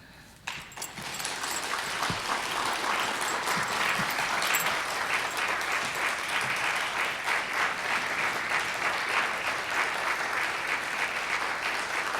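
An audience at a human trafficking awareness event breaks into sustained applause, starting with a few claps and swelling into a dense, steady round of clapping that carries on for several seconds without talk.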